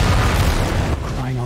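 Mech weapons firing in MechWarrior 5: Mercenaries make a loud, dense, booming roar of blasts that fills the whole stretch, with a tonal hum coming in near the end.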